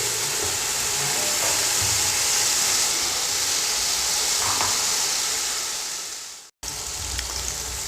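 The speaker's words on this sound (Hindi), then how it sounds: "टमाटरों को भी अच्छी तरह फ्राई कर लेंगे" Diced medium tomatoes fry in a pan for restaurant-style vegetable fried rice, a steady broad hiss of sizzling running loud and continuous, broken by a brief gap of silence near the end before resuming.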